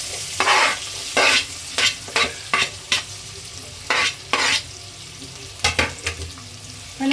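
Onions and green chillies frying in oil for a village-style fish curry, with a steady close sizzle and repeated sharp scrapes of a spoon stirring the pan.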